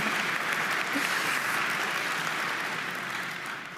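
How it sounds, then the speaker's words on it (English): Sustained applause from a large convocation audience at a reunion ceremony, a dense steady wash of clapping that fills the whole stretch and tapers slightly at the end. "Get ready to do some clapping."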